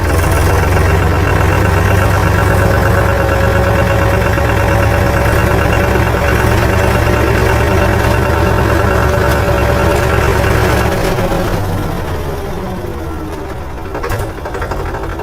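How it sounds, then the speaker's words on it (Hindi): A tractor engine chugs steadily and loudly close by with a droning hum, then the pitch shifts and the noise eases toward the end. "तो मैं गाड़ी थोड़ा तेज चलाता हूँ"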